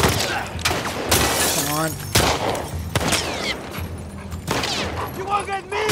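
Gunfire in The Last of Us Part 2: repeated bursts of shots and crashing impacts, loud and close, with brief talk over the fighting.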